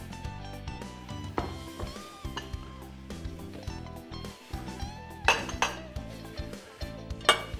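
Kitchen dishware being handled while plating a lentil salad: several light clinks and clatters of a plate and utensils, close and moderately loud, with no talking.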